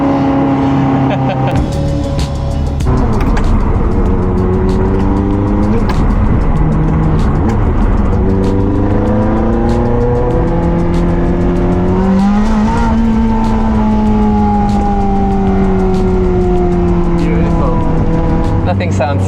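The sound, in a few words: car engine revving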